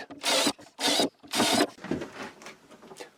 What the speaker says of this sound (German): da bohre ich mir jetzt ein paar Löcher vor